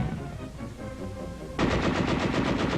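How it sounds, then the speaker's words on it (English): Sustained machine gun fire in World War II archival footage: an ongoing rattle that jumps abruptly to a louder, denser burst of rapid, evenly spaced shots with no speech over it. "Under cover of machine gun fire, the field fortification is stormed."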